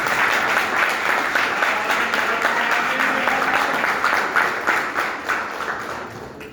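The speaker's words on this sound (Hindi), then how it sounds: "आप अपने लिए ताली बजा दीजिए।" Audience at a poetry recital breaking into sustained applause, dense crowd clapping that carries steadily and then thins and fades toward the end.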